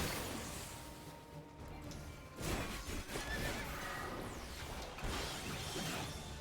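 Horses in Final Fantasy XIV neigh and whinny amid game sound effects, with crashing hits and clanking battle noise layered over a busy, loud mix.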